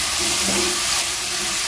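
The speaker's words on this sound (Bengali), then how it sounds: "সমস্ত উপকরণগুলো আমি খুন্তির সাহায্যে খুব ভালো করে নেড়ে চেড়ে মিশিয়ে নিয়েছি।" Garlic paste, ginger paste and spices including Kashmiri chili powder frying in a pan for a potol chingri gravy, a loud, steady sizzle with a brief scrape of a spatula stirring.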